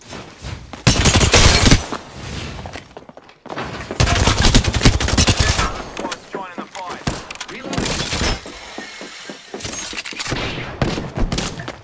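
Rapid bursts of gunfire in the shooter game Apex Legends crack out in dense volleys with short gaps between them, loud and close, mixed with in-game voice callouts.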